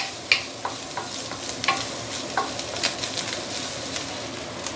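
Dried squid sizzles in a hot pan over lowered heat while being stir-fried, with a steady frying hiss and occasional sharp taps and scrapes of the spatula, close up.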